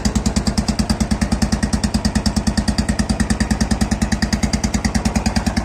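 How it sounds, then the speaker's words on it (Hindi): A BS6 Royal Enfield Bullet idles through an exhaust fitted with an RX100 dB killer, a close, steady, deep thumping beat that runs evenly with no talk over it. "साउंड आप सुन सकते हैं विद RX 100 डीबी किलर।"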